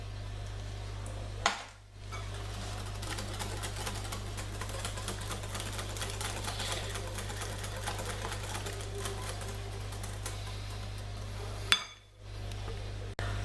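Egg yolks, sugar, milk and vanilla for crème brûlée being beaten in a bowl, giving a steady, fast clicking and rattling whisk sound that runs continuously and fairly close, with a low steady hum beneath and no talk.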